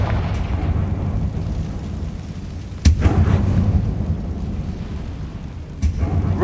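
Confringo fire spell blasts from the Hogwarts Legacy video game rumble loudly under a steady low roar, with two sharper booming impacts, one near three seconds and another near the end, and no talking.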